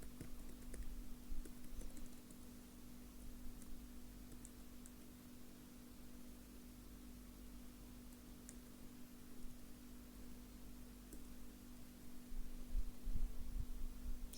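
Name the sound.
typing an email address on a computer keyboard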